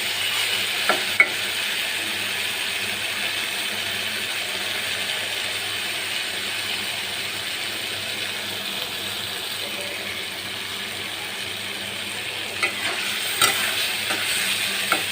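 Dried fish fries with spices in a pan over medium heat, giving a dense, constant sizzle with faint scraping from stirring, close and loud for the whole stretch.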